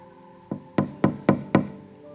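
Five sharp knocks on a door, the first lighter, the rest firm and evenly spaced about a quarter second apart, close and clear with nothing else heard.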